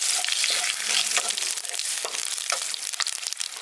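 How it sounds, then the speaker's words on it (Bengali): Cumin seeds and a bay leaf fry in hot oil in a wok, giving a steady, close crackling sizzle with fine pops all the way through, for a village-style prawn biryani. "ফোড়নটাকে হালকা একটু ভেজে নিচ্ছি।"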